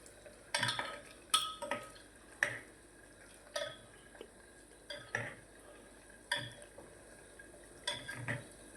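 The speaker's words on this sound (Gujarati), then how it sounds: "હલાવો બરાબર. તેલમાં થોડાક પાકી જાય ને બટાકા પછી સરસ તેનો સ્વાદ સારો આવે." A spoon scrapes and clinks intermittently against a pan as unpeeled potatoes are stirred in oil, each stir a short, moderately close scrape repeated roughly every second over a faint background.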